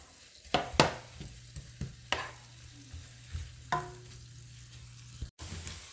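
Onions sizzle softly in a pan while a utensil stirs them, giving several sharp scraping clacks against the pan over a low, constant frying hiss.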